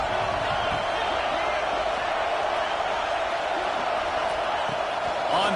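A packed Michigan college football stadium crowd roars in a steady, dense wall of cheering and noise, loud and continuous throughout with no gaps.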